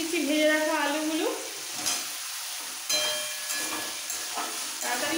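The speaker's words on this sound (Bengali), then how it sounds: "সাথে সাথে দিয়ে দিচ্ছি ভেজে রাখা আলুগুলো" Fried potatoes go into spiced masala for an egg curry and get stirred, giving a soft sizzle and scraping stir sounds, with a brief whistling tone near the start and no speech.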